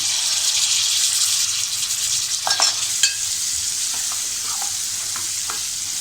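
Potato pieces sautéing steadily in a pan for a Malvani-style pea and potato curry, with a continuous loud sizzle and a few scraping stirs of a spoon partway through.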